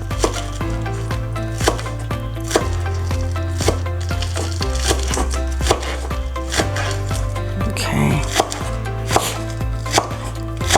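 A knife slices green onions for a garnish on a cutting board, with quick, steady, rhythmic chops repeating close up over a low continuous hum, no voices.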